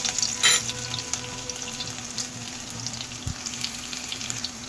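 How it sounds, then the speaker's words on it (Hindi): Soft, steady sizzling of ginger and garlic frying in a pan over low flame, with a few clinks and splashy sounds, close by and without talking. "लो फ्लेम पर हम इन्हें भून लेंगे ताकि कड़वे ना हो"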